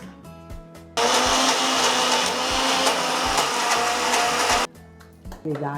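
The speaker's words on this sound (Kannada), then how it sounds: "ಸೊ ಅದನ್ನ ಮಿಕ್ಸಿ ಜಾರಿಗೆ ಹಾಕೊಂಡು ರುಬ್ಕೊಳ್ತಾ ಇದ್ದೀರಾ ಈಗ" Mixer grinder grinding onion for chutney without added water, a loud steady whirring motor that starts abruptly and runs for nearly four seconds before stopping, with quiet handling sounds before and after.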